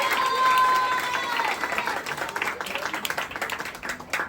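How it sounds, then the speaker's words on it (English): A student audience at an Independence Day celebration claps for dancers, dense applause that begins loud with a tonal whine and thins into a rhythmic patter of individual claps over the final seconds. "So give a tango clap for them again."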